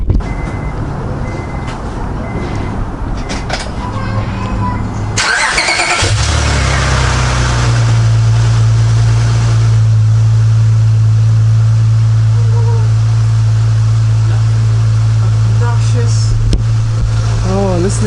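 An Acura TL V6 fitted with an RV6 J-pipe cranks and fires up after a few seconds of people talking nearby, then settles into a loud, steady, deep idle held close to the microphone.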